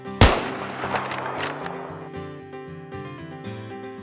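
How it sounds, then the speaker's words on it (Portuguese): A long-range sniper headshot in the video game Battlefield map Operation Firestorm: one sharp, loud gunshot crack followed by a few quieter shots and a lingering echoing tail under background game music. "headshot show de bola em Operation Firestorm, headshot de 904 metros"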